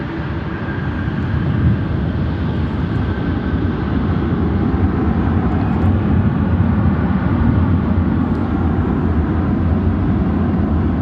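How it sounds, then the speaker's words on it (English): A United Boeing 737-900 landing at O'Hare roars in a loud, continuous rumble that swells slightly toward the middle and holds steady throughout. "The next landing aircraft here on 10 center will be United flight 1667, a 737-900 coming in from Cancun."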